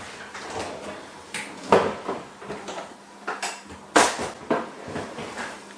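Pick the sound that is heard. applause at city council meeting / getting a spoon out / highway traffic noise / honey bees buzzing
getting a spoon out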